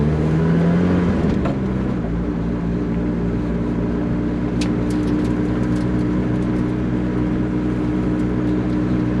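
A Lotus Exige S pulling away, its engine droning steadily and loudly from inside the car, with a rising tone at the start settling into a constant hum and a few faint clicks.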